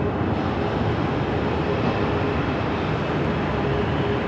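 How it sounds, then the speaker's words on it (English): A Southwest Boeing 737 MAX 8 jet arriving from Albuquerque at Phoenix airport, giving a steady, loud, broadband engine roar that holds evenly throughout, with no talk. "This is Southwest Flight 1479 coming in from Albuquerque on a MAX 8."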